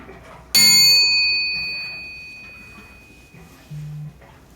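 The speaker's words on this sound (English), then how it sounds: "When you can no longer hear the bell" A single bell is struck once and rings out with a clear, sustained tone that slowly fades, over faint background murmur.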